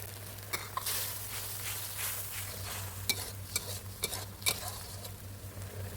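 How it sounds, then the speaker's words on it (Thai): Sliced fingerroot being stir-fried in a pan for a fried mackerel chili-paste dish, with a steady close sizzle and several sharp scrapes and clinks of a spatula against the pan, no talking. "ผัดให้กระชายสุกนะครับ"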